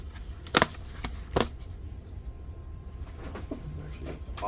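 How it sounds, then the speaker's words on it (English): Trading cards from The Hobbit being popped out of a deck box, giving a few quick papery flicks and snaps, close and quiet, followed by soft shuffling handling noises. "Pop the little cards out here"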